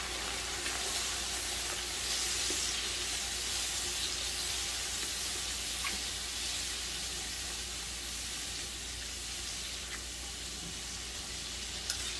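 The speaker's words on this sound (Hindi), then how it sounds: "एक से 2 मिनट हमने इसे भूनना है" Mutton yakhni pulao masala frying in a pot gives a steady, close, dense sizzle that holds without a break, with no talking.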